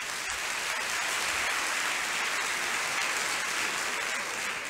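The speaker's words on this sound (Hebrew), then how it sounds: "בואו נמחא להם כפיים לכולם" A studio audience at the 1982 Israeli Eurovision preliminary broadcast applauds the three leading contestants, a broad, sustained wash of clapping that stays even and loud from start to finish.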